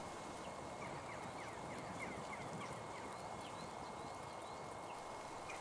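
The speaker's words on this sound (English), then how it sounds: "by the sounds of it, the local magpies are coming to the rescue" Local magpies call in a run of short, chattering notes, fairly distant over a steady outdoor hiss in open countryside, with no voices.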